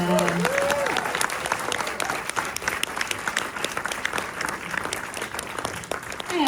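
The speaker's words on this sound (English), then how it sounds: "Another round of applause for Thelma." Sustained applause from a cinema audience at a Q&A screening of Thelma, steady and fairly loud throughout, with a few voices faintly audible beneath it.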